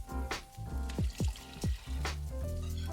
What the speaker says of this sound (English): Next, I'm adding 2 cups of unsweetened almond milk and 1 cup of vegetable broth.